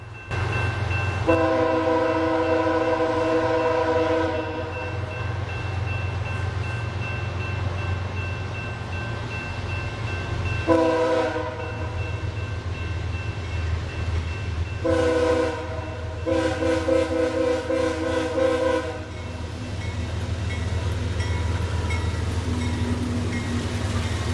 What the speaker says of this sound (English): northbound manifest M510 with one of the worst horns I've ever heard